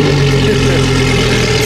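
A loud supercar engine idles close by with a deep, steady, throbbing rumble that holds without a break, and no other sounds come through.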